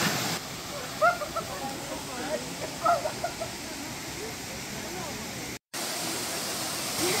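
Waterfalls in the Brazilian savanna near Brasília give a steady, broad rushing roar throughout, with faint voices briefly rising above it and a sudden short cut near the end.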